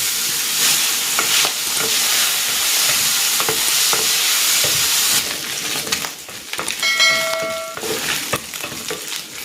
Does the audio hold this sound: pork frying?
yes